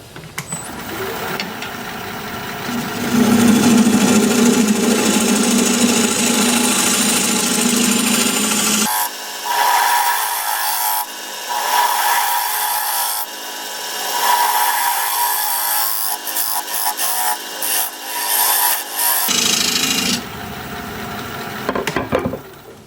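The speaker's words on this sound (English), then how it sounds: "I'm going to switch to a 1/2 inch bowl gouge to make the recess" A half-inch bowl gouge cuts a recess into a wood turning spinning on a lathe, giving a steady rough scraping hiss with the lathe's hum beneath, then shorter bursts of cutting broken by brief pauses.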